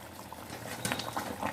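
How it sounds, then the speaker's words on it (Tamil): Khoya matar paneer gravy boils in a pan, its thick bubbling and popping rising close and fairly loud over a brief stretch. "பாருங்க எவ்வளோ நல்லா கொதிச்சிருக்குன்னு."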